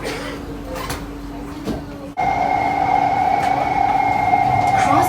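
A Singapore MRT train on an underground platform sounds its door-closing chime: a sharp cut, then a loud steady two-tone warning tone over low station rumble.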